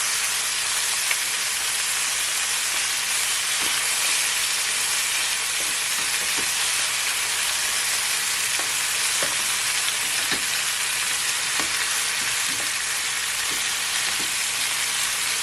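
Jamaican brown stew chicken searing in a pot over medium-high heat, a loud, dense, steady sizzle and hiss lasting throughout, with scattered small pops and clicks near the pot.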